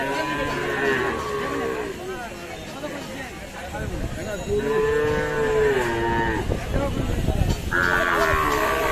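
Cattle, including small bulls and heifer calves, low and moo repeatedly at a crowded livestock market, several animals calling over one another with drawn-out bellows amid steady background voices.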